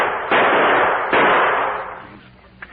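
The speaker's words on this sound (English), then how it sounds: "That's good shooting, Drew." Two loud gunshots from a radio drama marksmanship demonstration, a pistol shot near the start and another about a second later, each decaying into a long echoing rumble, with a couple of faint clicks at the end.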